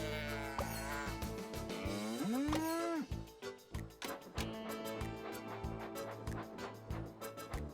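A cartoon cow moos once, loud and drawn out, in a Thomas and Friends train video game, over a bouncy backing music track with rhythmic beats.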